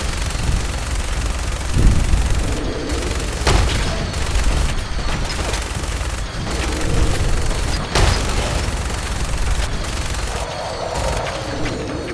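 Gunfire in Fallout 4 with repeated loud shots and booming blasts over a dense, rumbling battle din, sustained throughout.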